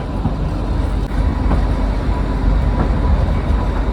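Shimla to Kalka toy train pulling into Kalka station, a loud continuous rumbling roar of the narrow-gauge carriages rolling in, steady throughout with no talk.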